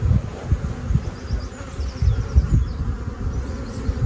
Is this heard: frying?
no